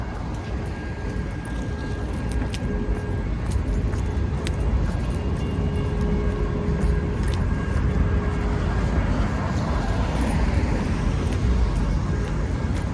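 A BNSF freight train rolling past a railfanning spot on Sublette Avenue, giving a continuous rumble and clatter of wheels with occasional metallic clanks and squeals, steady and fairly close for the whole stretch.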